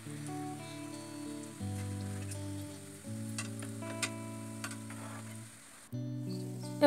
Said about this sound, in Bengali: এবার আমরা মিষ্টিগুলোকে ভালো মতো ভেজে নেব